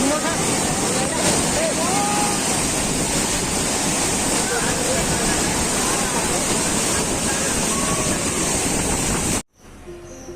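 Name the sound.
Ghatarani waterfall in the rainy season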